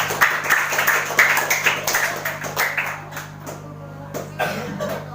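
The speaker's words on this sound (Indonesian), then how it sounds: "Tepuk tangan untuk Galang." Applause for a boy at a religious gathering, with a burst of scattered hand claps at close range that thins out after a few seconds, above a steady low hum.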